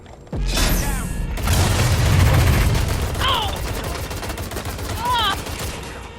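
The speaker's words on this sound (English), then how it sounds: "Grenade out! They're shooting at us!" Rapid gunfire and a heavy grenade blast in the video game Watch Dogs Legion, loud and dense, with bursts of shots continuing after the boom and a couple of sharp ricochet-like whistles.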